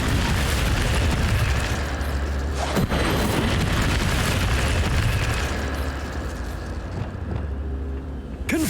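Casting the Incendio fire spell in Hogwarts Legacy sets off a loud, sustained roaring whoosh of flame with a deep rumbling body and a couple of sharper bursts, fading slightly at the end.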